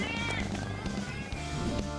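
A cat meows repeatedly in an animated scene, with steady background music underneath the calls.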